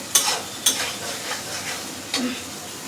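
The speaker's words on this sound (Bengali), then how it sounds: "এখন এটার মধ্যে দিয়ে দেবো, তেলের মধ্যে। এটা সুন্দর করে কষিয়ে নেব।" Greens stirred and fried in hot oil, a steady soft sizzle with a few sharper scraping stirs near the start and again toward the end, close and moderately loud with no talk.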